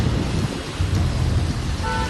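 Heavy monsoon rain pours steadily in Mumbai, a loud dense wash of noise with a deep rumble of thunder underneath. It fills the whole short stretch with no voices.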